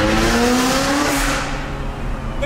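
A loud Ferrari engine roars close by on a Tokyo road, its pitch sliding as it revs and accelerates, then settles into a steady rumble.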